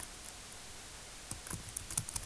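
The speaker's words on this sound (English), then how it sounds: "be quick at typing on a keyboard" Keys on a computer keyboard click faintly and close by. After a quiet stretch, a quick burst of taps speeds up toward the end.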